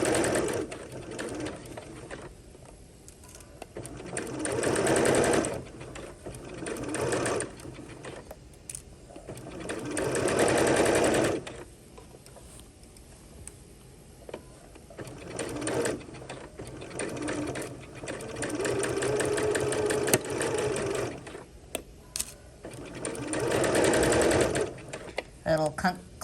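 A sewing machine stitches a crotch seam on pajama shorts in repeated runs of steady whirring. The runs are broken by pauses in which a person talks, and the needle gives a small clunk as it brushes a pin.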